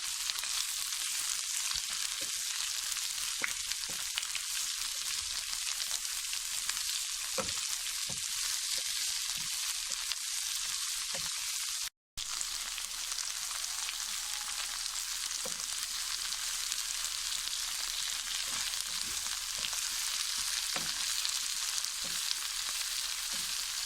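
Bitter gourd and onions fry in a pan with a steady, bright, hissing sizzle that fills the whole stretch, close and even, with faint stirring taps and one brief cut near the middle.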